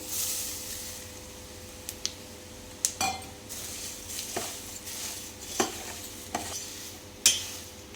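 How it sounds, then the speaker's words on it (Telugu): A spoon stirs a flattened rice (poha) mixture with salt and chilli in a pan, irregular scrapes and clinks against the metal over a soft sizzle, close and moderately loud, with no speech. "ఇప్పుడు అటుకులు వేసుకున్నాం కదండి, బాగా కలుపుకోవాలి వీటిని."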